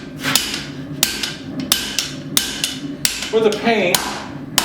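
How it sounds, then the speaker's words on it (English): Steel hammer blows strike a knife blank on an anvil while forging an integral bolster knife, about eight sharp ringing impacts at a steady rhythm, close and loud, with a brief spoken phrase partway through. "I think I'm to the point where I can start using the hammer"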